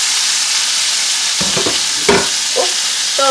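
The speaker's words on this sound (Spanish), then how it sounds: "Vamos a freír nuestro tomatito." Chopped tomatoes frying in a pan give a steady, close sizzle with faint stirring clinks, under no talk.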